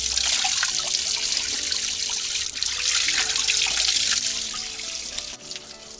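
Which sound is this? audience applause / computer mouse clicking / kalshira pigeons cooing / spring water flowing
spring water flowing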